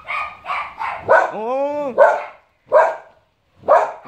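A dog barks at an iguana in a loud, close series of sharp barks. A person's drawn-out exclamation is heard partway through, and barking resumes at a steady rhythm.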